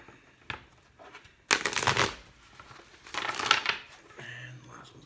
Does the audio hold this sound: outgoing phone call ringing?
no